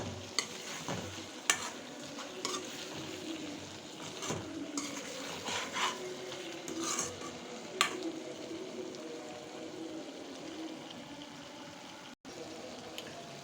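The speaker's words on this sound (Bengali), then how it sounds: "ভিনেগারটা মিশিয়ে নিচ্ছি আচারের সাথে" Vinegar being stirred into a spicy mango pickle made with onion and garlic, a wet, scraping stir in a pan with soft sizzling and occasional sharp taps of the spoon against the pot, close and fairly quiet.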